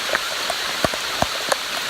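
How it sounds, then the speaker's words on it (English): Heavy rain falls in a steady, loud hiss on the Appalachian Trail, with a few sharper drops striking nearby surfaces. "It hasn't rained this bad since Buzz and I were caught in it"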